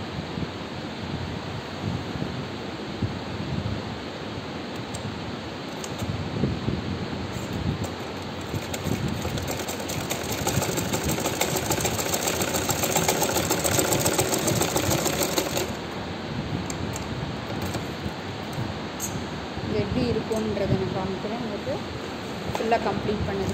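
A sewing machine stitches close along the folded edge of fabric to form a pin tuck, giving a steady mechanical whir for about ten seconds mid-clip over a hissy, noisy background.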